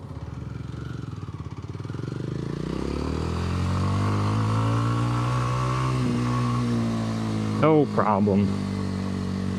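A 2025 Kawasaki W230 motorcycle engine pulls up a hill, its drone rising in pitch as it accelerates and holds steady under load. Near the end a voice speaks briefly over the engine.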